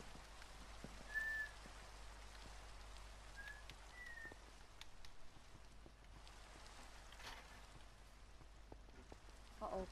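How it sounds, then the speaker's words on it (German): Steady rain patters in a Minecraft survival world, a soft even hiss with scattered drop ticks running throughout, plus a couple of faint whistling chirps early on. "Oh nein, Leute, es regnet."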